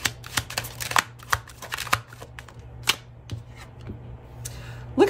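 Tarot cards are shuffled and flicked in a rapid run of crisp, close riffling snaps and slaps, with no voice over them.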